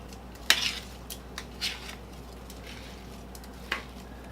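Utensils mixing chicken fajita ingredients give a few sharp, scattered clinks and scrapes against the dish, with quiet stretches in between; no voices.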